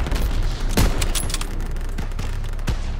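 Dense gunfire from Call of Duty: WWII, loud rapid bursts and sharp shots stacked into a continuous fusillade with no speech.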